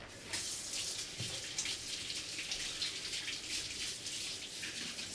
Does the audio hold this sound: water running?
yes